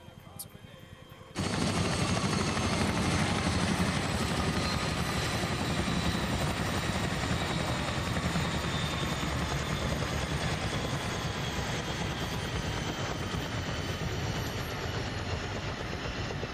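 A Chinook helicopter in a flight video game roars loud and close after a short quieter start, its dense rotor thrum holding steady and unbroken for many seconds.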